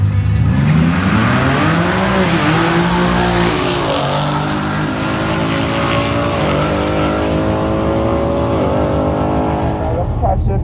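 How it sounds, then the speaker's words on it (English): A 600-wheel-horsepower AMP-built Camaro ZL1 revs hard in first gear, engine climbing and bouncing off the rev limiter several times in a loud, sustained roar, with a driver's voice faintly over it. "it keeps hitting limiter, so I guess I'm just gonna have to shift way early in first."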